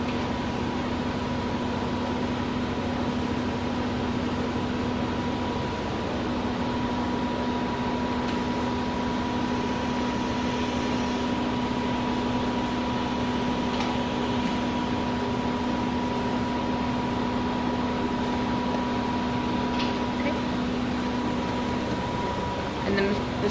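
A steady electrical hum and machine drone fill a science lab as a robot arm moves a sample into a superconducting magnet, a constant close tone with a person talking over it.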